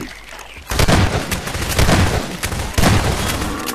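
Gunfire from the video game Garry's Mod fills a loud, dense stretch with repeated heavy bursts and booms, continuous and close, leaving no quiet gaps.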